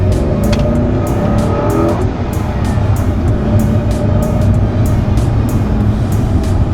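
A 2006 Ford GT's supercharged engine roars under throttle, loud and continuous from close by, with a rising rev early on and a dense, sustained engine note and whine throughout.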